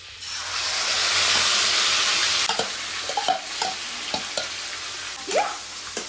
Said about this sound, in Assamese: এইখিনি অলপ সময় ভাজি থাকিম এইফালে বাটাৰখিনিও মেল্ট হৈ গ'ল